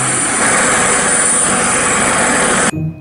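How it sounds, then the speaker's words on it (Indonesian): A police helicopter passing close overhead, its loud steady rotor and engine roar filling the air before cutting off abruptly near the end. "Wah, ini adalah helikopter polisi."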